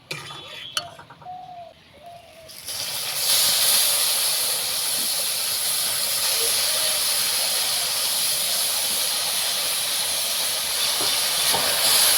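Grated raw papaya is dropped into caramelised sugar in a kadhai, setting off a loud, steady hissing sizzle that continues unbroken after a brief clatter and a few quiet words.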